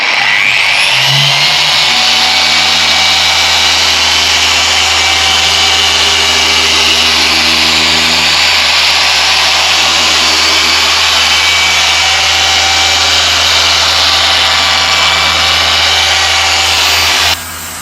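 A car detailing polisher with a pad spins at speed 2, a loud, steady motor whine with a high tonal hum that holds almost unchanged for the whole stretch before cutting off at the end, no talk.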